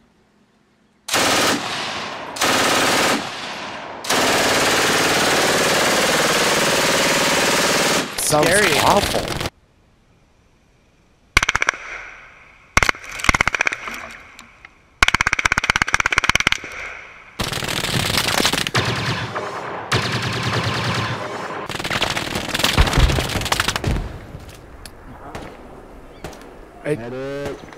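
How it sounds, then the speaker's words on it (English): Thompson 1928 machine gun with a suppressor firing in a video game, coming as long muffled bursts and short choppy volleys with gaps between, while players talk over and between the shots. "Thompson 1928, with a coastal silencer on it. Yeah, the machine gun sound really bizarre."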